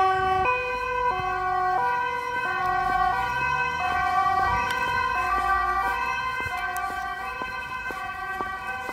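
Police car siren wails in a two-tone pattern, loud and fairly close, with faint traffic noise underneath and no one talking.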